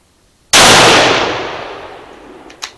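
A single loud, close shot from a Remington 700 ADL rifle firing 130 grain CX ammunition, an abrupt blast that rings out and decays over about two seconds, followed by a faint metallic clink.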